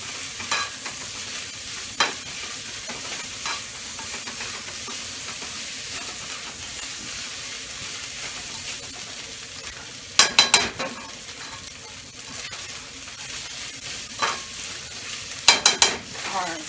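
Sausage stir-fried in a wok for fried rice gives a steady, loud sizzle with scraping stir strokes, sharp clattering bursts near the end, and no talking.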